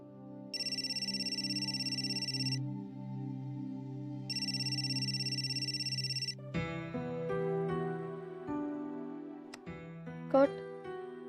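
Phone ringtone trills in two long electronic bursts, then gives way to a sustained musical melody. Speech is faint in the background.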